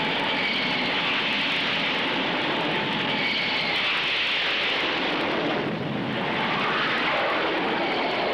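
Military jet aircraft from a carrier air wing of fighters, attack and reconnaissance planes roar in a continuous, broad engine rush that swells and eases slightly, loud and unbroken with no talk.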